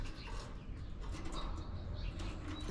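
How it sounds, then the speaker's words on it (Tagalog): Lovebirds outdoors in the morning make soft cooing and chirping calls over a low, busy background hum, heard from close by. "Itong mga lovebirds."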